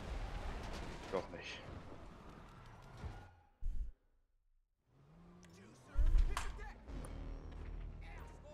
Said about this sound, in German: hinter mir explodiert's